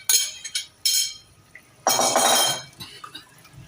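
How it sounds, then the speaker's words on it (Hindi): Marinated chicken tumbles into a cooking pot with clinking and scraping of a metal utensil against the vessel in several short bursts, close and clear, without talk. "अब इसके अंदर जो हमने चिकन मैरिनेट करके रखा था वो ऐड कर देंगे।"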